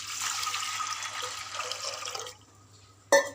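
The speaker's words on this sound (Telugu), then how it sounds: "ఇప్పుడు మనం దీంట్లో వాటర్ వేసుకోవాలి." Water poured into a pot of washed lentils for a raw mango and brinjal dal, a steady close splashing pour lasting about two seconds before stopping, then a brief sharp clink.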